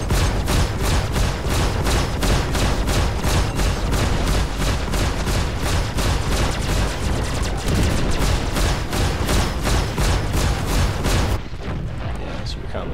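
Spaceship weapons fire in the video game Star Citizen, a dogfight with rockets, missiles and guns: a long, dense run of rapid rhythmic blasts that stops abruptly near the end, leaving a quieter rumble.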